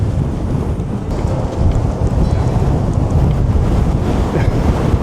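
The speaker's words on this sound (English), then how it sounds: "It is crazy windy up here." Strong gusting wind buffets the microphone on an exposed hilltop Iron Age fort, a loud continuous roar with low rumbling throughout and no talking.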